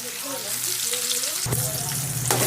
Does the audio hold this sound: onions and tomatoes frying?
yes